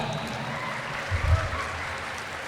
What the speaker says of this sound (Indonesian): tepuk tangan buat adik kita